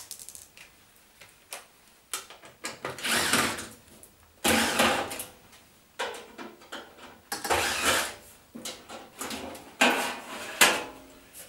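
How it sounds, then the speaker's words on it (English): Back panel being removed from an unplugged electric cooker that will not power on, with irregular bursts of metallic scraping, clicks and rattling from handling sheet metal, close and loud, separated by short quiet gaps. "So with the plug unplugged and the power disconnected, we're going to take the back of the cooker off"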